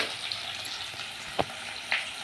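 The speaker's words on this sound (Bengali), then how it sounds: "সর্ষে বাটবো আর মাছটা ভাজা হচ্ছে" Fish fries in a pan at home, giving a soft, even sizzle with a couple of sharp spatters or utensil clicks.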